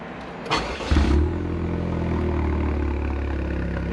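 A Vanderhall car engine cranks and catches after a push-button start, a short burst of noise settling into a steady idle hum.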